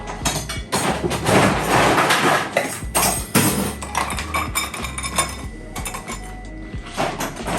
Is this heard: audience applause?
no